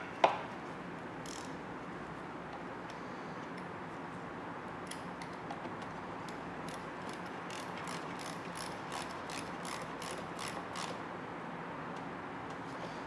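A wrench ratchets to tighten the negative battery terminal cable on a Ford F-series truck, a run of quick close clicks after one sharp knock, over a steady hiss of background noise.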